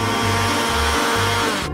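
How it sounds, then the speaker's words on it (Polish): An electric hand mixer beats zucchini waffle batter with a loud, steady whirring drone, its low pitch pulsing slightly, heard up close and cutting off at the end. "Zrobię to szybko za pomocą miksera."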